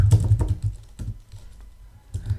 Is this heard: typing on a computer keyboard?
yes